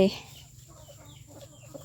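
Faint clucking from chickens and ducks comes in soft, scattered bursts against a quiet background hum.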